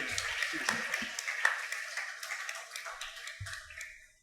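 Audience applause in a hall after a talk on the Srimad Bhagavatam, honouring the supporting family: steady mid-distance clapping from a crowd that gradually thins out, with a few louder claps and a brief low thump near the end.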